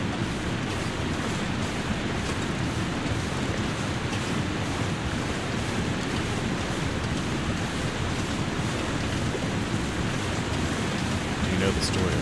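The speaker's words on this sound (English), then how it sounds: "I also apologize for how loud that waterfall is" A loud waterfall in a video game keeps up a constant, dense rush of water from start to finish, steady and broadband with no letup, while faint talk sits under the roar.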